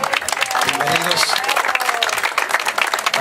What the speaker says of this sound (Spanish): pues hay que también aplaudirle, reconocerle